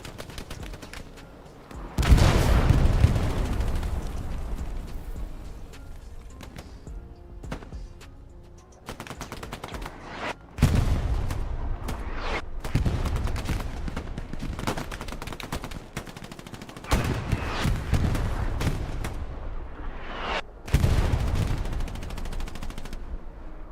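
Artillery and gunfire crash in the Hell Let Loose World War II shooter, with heavy booms and bursts of automatic fire recurring across the battlefield at varying distances.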